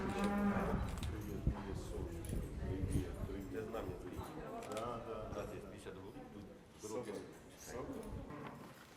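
Cattle in a cowshed with newly born calves lowing repeatedly, deep moos rising over a steady murmur of people talking nearby, with some shuffling and hoof sounds.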